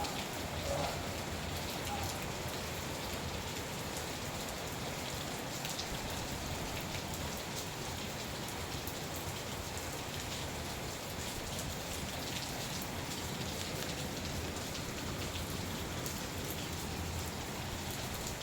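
Heavy rain pours steadily outdoors in General Santos City, a dense, even hiss of drops lasting throughout with no letup.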